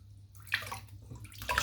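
A Wolf Whiskers 24mm Black Wolf shaving brush dipped into warm water in a sink gives a few brief, soft splashes and drips, quiet and close, with no voices.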